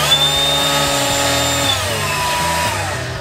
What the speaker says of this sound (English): that's your 2-speed blower